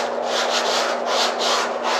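Tin foil scrubbed against rusty metal, a rough, gritty rubbing in quick repeated back-and-forth strokes, close and steady with no talk.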